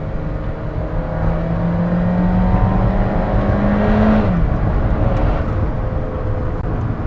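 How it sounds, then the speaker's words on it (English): An Alfa Romeo 4C's engine drones steadily while driving, then its revs climb to a peak and drop away midway, followed by a lower continuing hum of road and engine noise. "this car likes to be revved"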